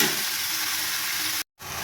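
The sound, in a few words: ivy gourd frying with onion and tomato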